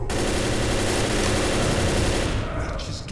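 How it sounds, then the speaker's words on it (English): Sustained automatic gunfire in the zombie shooter Left 4 Dead, a loud, dense, continuous burst of rapid shots lasting about three seconds before tapering off slightly at the end. "and then I have to shoot the guy"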